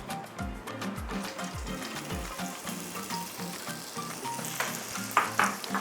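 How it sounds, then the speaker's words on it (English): Chopped onions, rodo peppers and tomatoes hit hot oil in a pot, giving a loud, steady sizzle and crackle with bursts of stirring and clatter throughout, no talking. "I'll be adding chopped onions, rodo, and some tomatoes into the oil."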